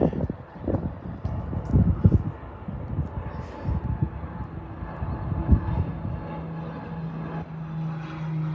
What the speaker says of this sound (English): Nice little aircraft here, maybe a Beechcraft or